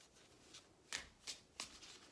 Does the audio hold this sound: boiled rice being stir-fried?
no